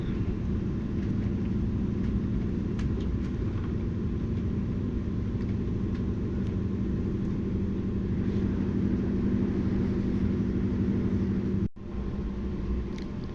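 Steady low rumble and hum inside a train carriage on an overnight journey to Switzerland, continuous wheel and running noise with a brief dropout near the end, no talking.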